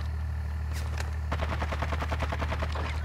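Rapid automatic gunfire in a video game, a quick burst of repeated shots firing loud and close after a brief lull, over a steady low hum.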